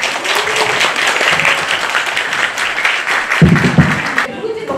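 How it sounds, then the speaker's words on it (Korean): An audience at a community talk about a school meal program applauds to welcome the speaker, a dense, fairly loud wash of clapping that swells and fades, with some voices underneath. "나오실 때 큰 박수로 한번 맞아주세요."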